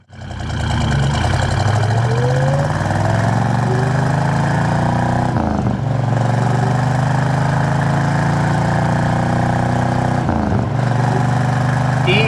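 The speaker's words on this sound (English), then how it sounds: "Test out that motor one more time, do a little bit heavier of an acceleration for you." A 1972 Chevrolet Chevelle with an LS5 454 big-block V8 and four-speed accelerates hard, its engine roaring loudly and steadily from inside the car, dipping briefly twice at the gear shifts.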